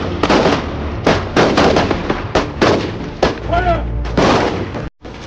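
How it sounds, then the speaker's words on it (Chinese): A war movie scene in which a line of soldiers fires rifles into the sky, giving loud, sharp reports in a rapid uneven volley of about a dozen shots, close and echoing. "很快他们就打完了第一轮子弹"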